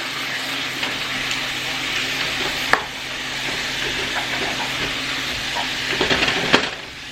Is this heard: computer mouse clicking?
no